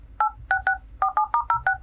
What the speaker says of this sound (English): You can hear it right now.